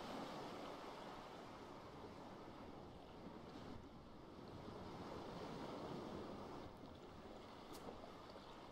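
Ocean waves and surf wash steadily in the sailing game Forgotten Seas, a continuous broad rushing hiss with wind noise, faint and unbroken, with no voices.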